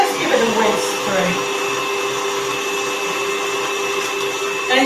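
An electric whisk running steadily in a bowl of no-bake Crunchie cheesecake filling, a loud continuous motor whine with slight changes in pitch.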